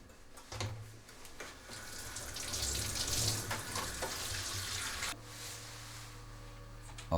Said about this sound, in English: the instruments are rinsed in the sieve insert under running tap water